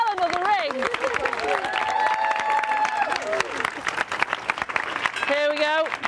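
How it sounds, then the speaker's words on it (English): Enthusiastic applause for hospital staff after a boy rings the end-of-cancer-treatment bell, with scattered cheers and excited voices calling out, while a few people shout and talk over the steady clapping. "let's end with a big round of applause for all the staff"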